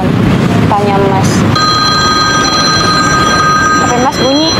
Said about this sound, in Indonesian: HP Mas bunyi.